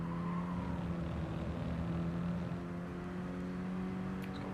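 A Mini Cooper race car in the Mini Cooper Cup at Brands Hatch, a sustained steady engine drone with a droning tonal whine running throughout and no break.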